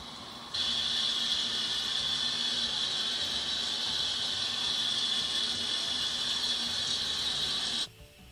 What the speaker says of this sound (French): on a le son de la pluie